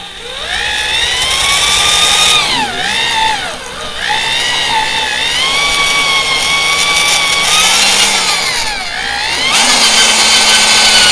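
A loud power drill whines continuously as a self-feeding bit bores into a log bench, its pitch sagging and recovering under load, with chips rasping throughout.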